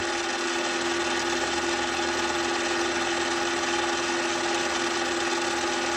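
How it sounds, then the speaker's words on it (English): A grinding wheel steadily taking material off a Subaru engine valve, producing a continuous, even whine and hiss at close range with no pauses and no talking. "as the grinder is spinning and the metal is contacting the grinding wheel, it's taking off material from the grinding wheel"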